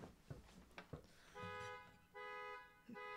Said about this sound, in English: Just a car alarm going off in my neighborhood